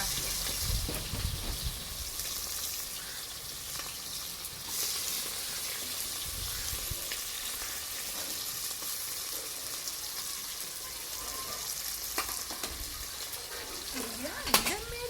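Onions and green chillies sizzling steadily in hot oil for chicken biryani, a continuous close frying hiss with occasional stirring scrapes, and a voice talking intermittently over it.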